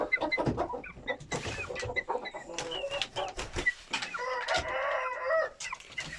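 Chickens cluck continuously nearby while a rooster crows out over the flock, a busy, layered barnyard chorus.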